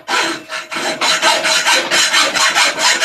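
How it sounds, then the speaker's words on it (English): A hacksaw cuts through a part for a hidden blade prop in loud, close, rhythmic back-and-forth rasping strokes, steady and continuous with no talk. "Use a hacksaw"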